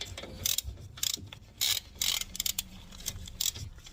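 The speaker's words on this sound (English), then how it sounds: "We're gonna just tighten this bolt up." A ratchet clicks in short bursts while a brake caliper bolt is tightened on a Kia Sorento during a brake caliper and pad install; the clicks are close and repeat several times with brief pauses between them.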